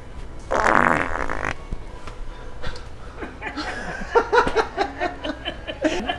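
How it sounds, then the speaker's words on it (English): A loud, wet prank fart blasts early on, followed by chuckles and snickering laughter from people nearby. "Did the fart part sound real?"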